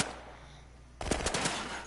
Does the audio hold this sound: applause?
no